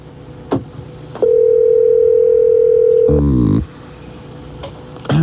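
A telephone produces a steady electronic ring tone lasting about two seconds, then a short buzzing burst, with faint background noise from a talk-radio studio.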